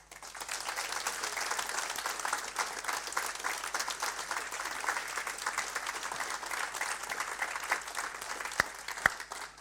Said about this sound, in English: So I think they all deserve a round of applause